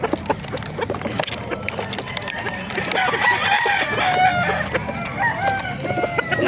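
Chickens and roosters at the Baliuag market in the Philippines, with clucking and a rooster crowing amid busy market noise and scattered wooden knocks, steady and moderately near.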